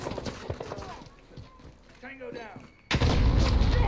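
Gunfire from a shooter video game erupts as a loud, dense burst near the end, following a stretch of excited talking by a player.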